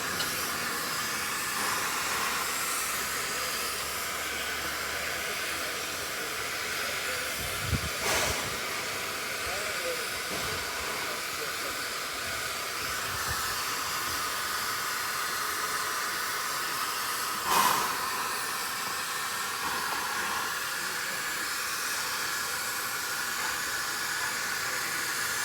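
A steady broad hiss of steam from the Kiama picnic train waiting to depart, continuous and fairly close, with a couple of faint knocks and clanks over it.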